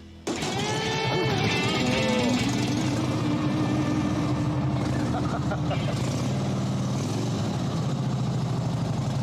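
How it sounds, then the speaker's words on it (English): A deep, rumbling vintage flathead car engine idles loudly and steadily close by, its low throb continuing throughout with a brief faint start at the beginning. "That engine, that flathead engine, it's just the noise, the sound"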